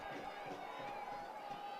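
A Chattanooga FC home crowd at a soccer match against Michigan Stars FC roars in a steady, rising cheer, dense and continuous from a large stadium audience, with no individual voices standing out.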